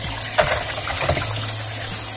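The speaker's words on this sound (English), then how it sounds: "Now I'll just do it again with water just to rinse it off." Raw chicken wings are rinsed under running tap water in a home kitchen, giving a steady, close gushing splash with uneven splatter as the water hits the meat, with no voice.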